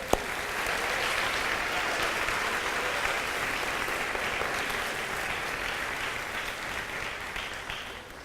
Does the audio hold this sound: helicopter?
no